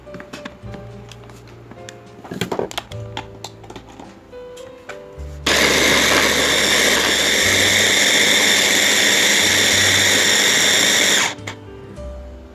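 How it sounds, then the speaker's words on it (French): An electric blender purees banana for a homemade hair mask, starting after a few clicks and handling noises, then roaring loudly and steadily for about six seconds before cutting off. "j'ajoute la banane, je mets la banane, toute la banane, je le découpe bien et je vais mixer"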